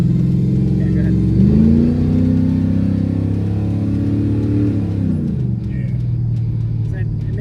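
A Chevy LS V8 swapped into a Ford F150 pickup revs up loudly nearby, the engine note climbing and holding before settling back to a deep, steady rumble, with voices faintly underneath.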